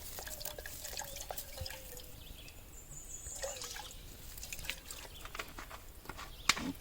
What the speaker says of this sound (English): I'm going to pour some water in here.